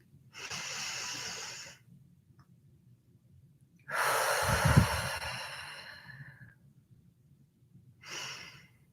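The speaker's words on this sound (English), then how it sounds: "I want you to take a moment right now to take a deep breath with me." Slow, deep breaths taken during a calm guided pause: a long inhale, a fuller audible exhale with a soft thump, then another breath, close and quiet with no talking.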